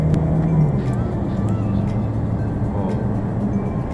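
A boxy Suzuki Karimun's engine runs hard at high revs while driving fast on an empty road, a loud steady drone with a rising whine near the start.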